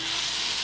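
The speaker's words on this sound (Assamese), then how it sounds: "এইফালে আমাৰ বিলাহী ভাজিখিনি হৈ গৈছে" Tomatoes for chutney fry in a pan, a brief, steady, close sizzle of under a second.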